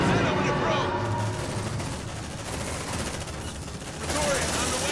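Sustained heavy gunfire in the game Aliens: Dark Descent: dense, continuous automatic fire and blasts forming a thick roaring wall of noise, with a louder surge near the end.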